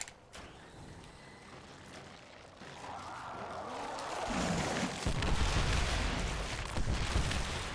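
Deep rumbling blasts and crackling bursts from screeb explosions in the Destiny 2 Master Presage mission build in intensity, growing into a loud, continuous barrage of explosions.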